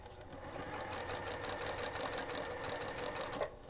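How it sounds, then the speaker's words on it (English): Sewing machine stitching a quilt block corner to corner, a steady, close, rapid mechanical whirring hum with fast rhythmic needle ticks running continuously without pause. "So I'm going to sew from corner to corner on here, line it up, and here we go."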